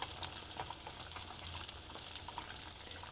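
Squash blossoms stuffed with ricotta deep-frying in hot oil, giving a soft, steady sizzle and crackle with scattered small pops, fairly quiet and close, no talk.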